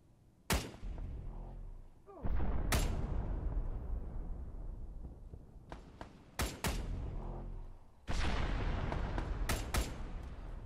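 Incoming gunfire and artillery in ARMA 3: sharp cracks and heavy booming impacts arrive in irregular bursts, each trailing into long rolling rumble, loud and close with no talking.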